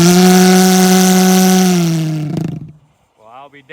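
A homemade pulse jet engine built from an asphalt heat lance roars loud and close with a steady droning buzz, then cuts out abruptly; a voice follows in the quiet that comes after.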